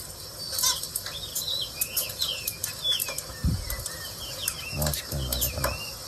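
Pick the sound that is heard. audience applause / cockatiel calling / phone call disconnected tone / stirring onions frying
cockatiel calling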